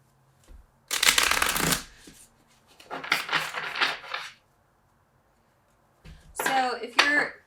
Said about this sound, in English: I will give this a shuffle, and we will pull some cards here.